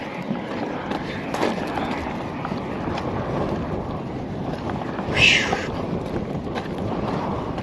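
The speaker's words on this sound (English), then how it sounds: "God, this wind is so bittersweet too." Steady wind gusting outdoors on a long city walk, a continuous broadband rush of noise buffeting the microphone with one brief louder gust, alongside faint background activity.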